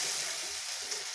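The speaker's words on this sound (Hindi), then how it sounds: "अब इसमें हम डाल देंगे टमाटो प्यूरी, अच्छे से मिक्स कर देंगे।" Tomato puree goes into onion, ginger and garlic that are already frying, producing a loud, dense sizzle that holds steady for about a second, heard up close with no voices.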